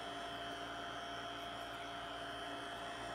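A handheld hair dryer blows steadily and loudly at close range while heating a Jamberry nail wrap to loosen it. The airflow noise is continuous and unbroken, with no talking.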